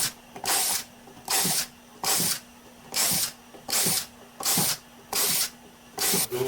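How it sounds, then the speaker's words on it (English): A power drill with a quarter-inch (5mm) standard bit bores through wood for a woodworking jig, in eight regular bursts of high whine, each about half a second long with short pauses between, close and loud. "I'm going to use a 1/4 inch or 5mm standard bit to drill out the top side"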